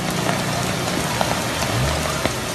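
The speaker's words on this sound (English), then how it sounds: "as the heavy rain continues to hit one of the more prone spots in the city" Heavy rain pours steadily onto flooded city streets, a dense, continuous hiss with scattered louder splashes, close and loud throughout.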